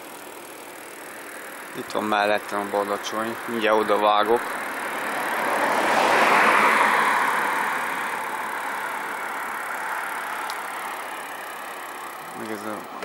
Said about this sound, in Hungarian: Erre jön egy autó.